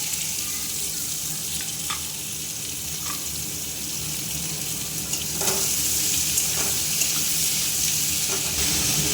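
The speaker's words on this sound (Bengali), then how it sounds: "পেঁয়াজগুলো লাল করে ভেজে নেব।" Chopped onions sizzle in hot oil with bay leaf, dried red chilli and whole cumin, cooking for an egg curry: a steady close hiss with scattered small pops and crackles that grows slightly louder midway.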